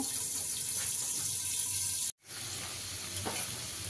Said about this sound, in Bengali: আলুটাকে একটু ঢাকা দিয়ে ভেজে নেব।